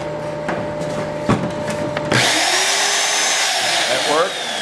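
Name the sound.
3/8 inch electric drill running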